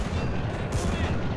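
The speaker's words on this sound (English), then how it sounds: "Japanese 80 rifle. Sounds so devastating." Gunfire in the World War II strategy game Men of War: Assault Squad 2, with a burst of sharp loud shots over dense, continuous battle noise.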